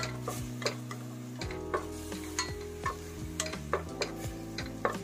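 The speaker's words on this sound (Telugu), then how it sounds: "ఇందులో ఫైన్గా గ్రైండ్ చేసి పెట్టుకున్న ఆనియన్ పేస్ట్ వేస్తున్నానండి. ఒకసారి ఫ్రై చేసేసుకున్నాను." Onion paste frying in a pan for chicken kurma, a steady sizzle under repeated scraping stirs with a utensil, the strokes knocking at a fairly even rhythm with a low hum beneath, close and moderately loud.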